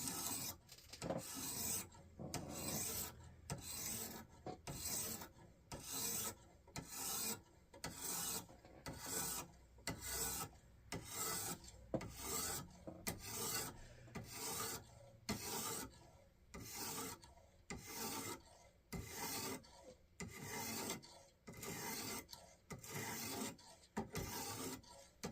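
Steel knife blade scraped through a Wasabi-type pull-through sharpener in repeated rasping strokes, a steady back-and-forth rhythm of close, gritty scratches with brief gaps between passes.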